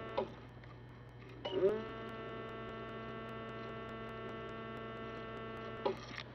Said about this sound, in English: when I touch that wire to ground, I don't know if you can hear it or not, but that makes the pump run